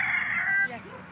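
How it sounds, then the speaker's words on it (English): A rooster crows in a garden where eggplant, tomato and ginger grow, one loud, close, drawn-out call that breaks off sharply near the end, followed by a brief softer cluck. "And you look after the chickens too?"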